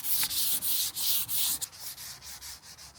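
An 800-grit sheet rubs by hand across a plastic front splitter from a Honda Civic EK, giving a close, hissing scrape in quick back-and-forth strokes that soften toward the end, with no voices.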